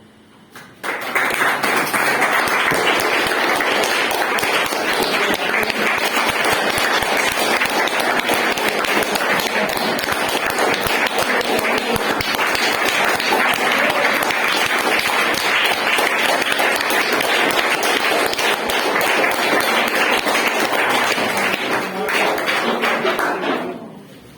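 Loud, dense applause from a meeting audience welcomes a speaker, sustained clapping that runs steadily for over twenty seconds before cutting off.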